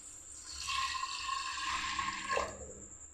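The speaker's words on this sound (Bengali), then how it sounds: "এবার জল দিয়ে দিচ্ছি।" Water pours into a pot of chana dal being cooked with whole spices, a short steady splashing stream that stops after a few seconds, close and fairly quiet.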